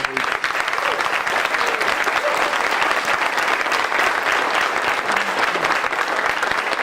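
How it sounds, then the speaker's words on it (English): Audience at a sports hall of honor induction gives sustained, dense applause, steady and loud for about seven seconds with no talk over it. "a big round of applause for her"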